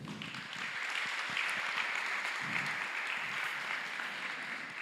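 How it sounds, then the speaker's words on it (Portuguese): Sustained applause from a church congregation, many hands clapping in an even wash that swells slightly and holds throughout. "Aplauda o Senhor em nome de Jesus"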